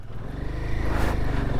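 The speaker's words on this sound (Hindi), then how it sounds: "पहले मैं एक बाइक निकालता हूँ, फिर मैं दूसरी बाइक निकालता हूँ" A motorcycle engine rumbles nearby at low revs, rising slightly midway as the bike crawls over rough, rocky ground, with a steady throb and no voices.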